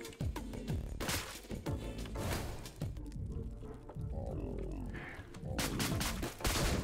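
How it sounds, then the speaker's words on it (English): A 9mm pistol fires several sharp shots in the game Deadbolt, mixed with impacts and crashes amid busy game noise, with people talking over it. "4 shots from the 9mm to get rid of them"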